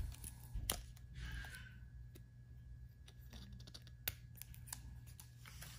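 Scissors snipping through thin, breathable fabric of a face shield, a few sharp close clicks and cuts scattered over low room hum.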